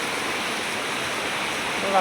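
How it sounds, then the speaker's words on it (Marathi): Dense, steady hiss of heavy rain pouring down without a break in Kalyan, loud and close throughout. "पावसाचा जोर आता वाढलेला आहे"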